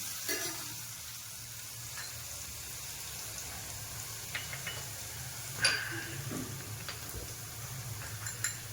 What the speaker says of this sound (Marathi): आला लसूण घालूया आलं लसूण जरा थोडंसं असं परतून घेऊया